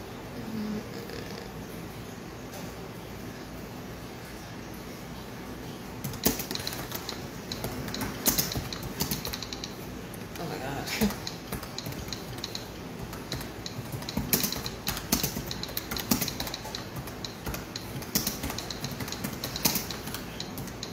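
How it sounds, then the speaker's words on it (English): A computer keyboard sound effect produces a steady patter of sharp, close typing clicks. The clicks grow busier and louder after the first few seconds over a constant low hum, with no talking. "Sorry for that typing noise. That's the computer that my sister has a sound effect on."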